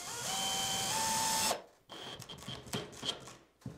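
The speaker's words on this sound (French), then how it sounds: "Lorsque l'on visse une plaque de plâtre" A power screwdriver drives screws into plasterboard on a curved ceiling: a steady whirring drive for about a second and a half, then quieter scraping and handling clicks nearby.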